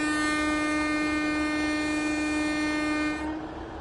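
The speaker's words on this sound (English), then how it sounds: "I can do the horn." Horn of an Avanti West Coast Class 805 Evero train in Train Sim World 6, a loud steady two-tone blast held for about three seconds before cutting off, with no talk over it.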